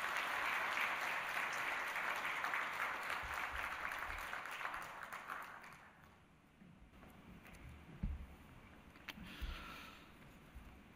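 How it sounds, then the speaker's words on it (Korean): A church congregation applauds scholarship recipients during a Sunday service, broad clapping loud at first then fading out over several seconds, with a few scattered claps and thumps trailing after. "열심으로 공부할 수 있게 박수를 격려해 주시면 감사하겠습니다."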